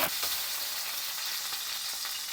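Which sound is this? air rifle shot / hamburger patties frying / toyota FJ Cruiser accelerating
hamburger patties frying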